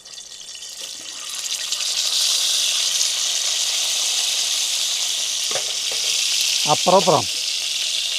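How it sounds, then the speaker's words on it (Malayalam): Chicken pieces for Manjali chicken biriyani drop into hot oil and set off a loud, steady sizzle that rises within the first second and keeps going. A voice speaks briefly near the end. "നമ്മുടെ ഈ ഓയിൽ ചൂടായി കഴിഞ്ഞിട്ടുണ്ടെങ്കിൽ ഈ ചിക്കൻ്റെ പീസുകൾ ഇതിലിട്ട്"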